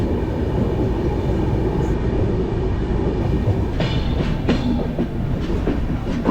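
The Sampark Kranti Express rumbles steadily along the tracks into a station, heard from sleeper class, with wheel clatter and brief metallic squeals as it slows.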